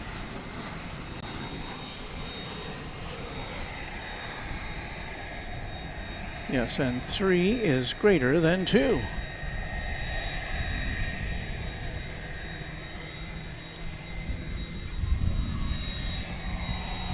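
A 32-year-old McDonnell Douglas MD-11 jet at Dallas/Fort Worth Airport at night gives off a steady, distant engine roar that fills the whole stretch, while someone talks over it.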